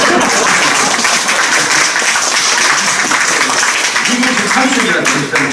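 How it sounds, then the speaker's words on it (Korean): A gathering at a peace forum breaks into loud, continuous applause, a dense crowd of clapping hands that fills the whole stretch with voices faintly mixed in. "박수 칠 때가 됐어 지금"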